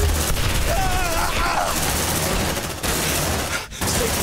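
In the Aliens: Dark Descent video game, a grenade explosion and bursts of gunfire form a dense, loud, continuous roar, with sharp cracks and a brief dip near the end.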